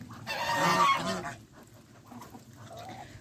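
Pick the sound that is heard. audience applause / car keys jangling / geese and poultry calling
geese and poultry calling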